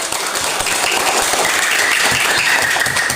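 Classroom students applaud a group of classmates, a dense but modest burst of clapping from many hands, steady and close, with a faint tone running underneath.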